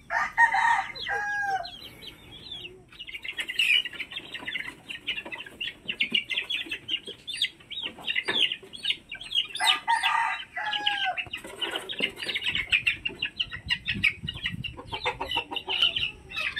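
A sweater lemon gamefowl rooster of the Alfonso line crows repeatedly in drawn-out calls between bursts of clucking, close and clear, with other birds and faint background noise around it.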